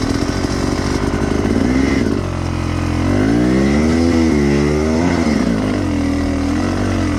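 A dirt bike with a broken throttle revs loudly and close on a singletrack dirt trail, its engine note rising and falling in uneven surges without pause for about seven seconds.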